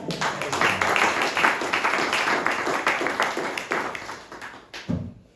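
A room of diners applauds a meal at a LiTFUSE FUEL gathering, dense loud clapping sustained for several seconds before tapering off abruptly near the end.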